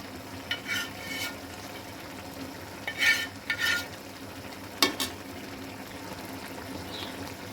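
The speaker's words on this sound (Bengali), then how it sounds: "এবার মাছটা দিয়ে দিচ্ছি" Fish added to a simmering curry of spinach and vegetables, with soft sizzling and a few stirring scrapes of a spoon in the pan, fairly quiet and close, no talking.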